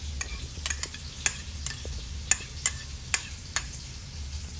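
A sauce of cream cheese, ketchup and Cajun spices is stirred, with sharp utensil clicks against the bowl at an irregular rhythm over a soft background hiss. The sound is close and there is no talking.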